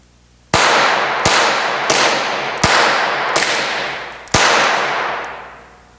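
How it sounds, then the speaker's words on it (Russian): Five sharp, loud cracking shots from a Flobert cartridge pistol at irregular intervals, each a bright bang with a short ringing tail, close by and with no voices. "поэтому тоже будем производить несколько выстрелов"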